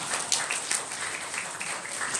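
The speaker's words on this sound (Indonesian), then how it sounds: "Coba tepuk tangan." Audience at a national seminar on religious and nationalist integration ahead of peaceful elections in Indonesia clapping, a dense burst of applause that stays steady throughout without speech.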